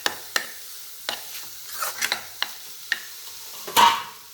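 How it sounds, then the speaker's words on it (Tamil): Radish and lentil usili being stirred in a pan, with crisp spoon scrapes and taps against the pan spaced out over a quiet sizzle, one louder scrape near the end. "நல்லா கிண்டிக்கணும்"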